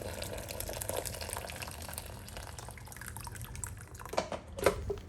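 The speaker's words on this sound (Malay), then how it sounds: "Kemudian tambahkan air mendidih ke dalam mangkuk adunan sehingga ke paras 2 liter." Boiling water is poured into a Thermomix mixing bowl up to the 2-litre mark while making a steamed fruit cake, giving soft watery trickling and splashing, with a few sharper splashes toward the end.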